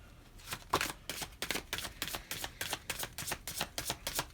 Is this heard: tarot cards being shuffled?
yes